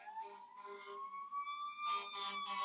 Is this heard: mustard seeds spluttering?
no